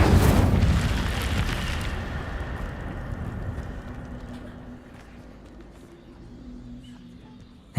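A fire spell from Hogwarts Legacy erupts in a loud whooshing burst that roars at first and then fades into a long crackling tail, with a sharp pop right at the end.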